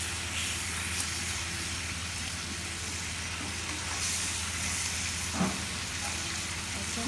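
Lightly fried prawns tossed into sizzling tamarind sauce, a steady close hiss and crackle of frying with a brief stir or clatter midway, no talking.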